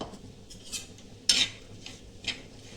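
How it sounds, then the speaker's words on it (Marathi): Grated coconut roasts with a little oil in a pan as a utensil scrapes and clinks against the metal, several sharp knocks over a soft background, no talking. "चला आता आपण खोबरं भाजून घेऊ खोबऱ्याला पण आपल्याला थोडंसं तेल टाकायचं"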